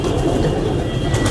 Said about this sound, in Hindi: कलसरा सहारनपुरी कबूतर है जी